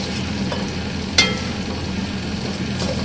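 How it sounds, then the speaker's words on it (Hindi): Mutton keema browning with ginger garlic paste in a pan, a soft continuous sizzle with a few faint scrapes of stirring and one sharp clink of a spoon against the pan. "2 से 3 मिनट ही हम इसको भूनेंगे, ताकि हमारे लहसुन अदरक का पेस्ट अच्छी तरह से कीमे के साथ भून जाए"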